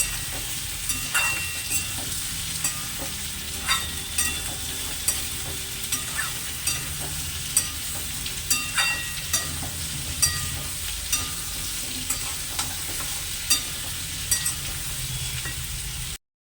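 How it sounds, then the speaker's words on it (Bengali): Potato and pointed gourd pieces fry in a pan on a gas stove, giving a steady close sizzle with frequent light clicks and scrapes from stirring, then a sudden stop at the end; no talking. "ভেজে নেব সামান্য একটু লাল লাল করে ভেজে নেবো"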